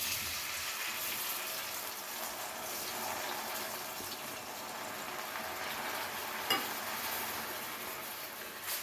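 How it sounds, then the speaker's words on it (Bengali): A little milk poured into warm ghee in a pan and stirred, a soft steady sizzle and bubbling hiss, faint and close, with one small clink of the spoon. "এরপরে ঘিটা হালকা গরম হয়ে গেলে এর মধ্যে দিয়ে দেবো অল্প পরিমাণে একটু দুধ"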